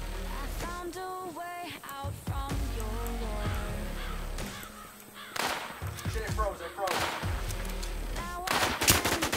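Rifle gunfire in the video game Infestation, with sharp shots among game sounds and music-like tones, ending in a cluster of loud cracks near the end.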